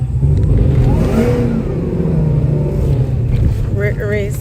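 A Chevrolet Caprice engine revs at a street track, a loud mid-range engine roar rising and falling while people talk over it nearby.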